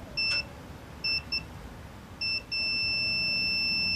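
A multimeter on continuity test beeps at a transfer case sensor from a Nissan Navara D40, giving several short clear beeps followed by one sustained tone, loud and close in a quiet setting.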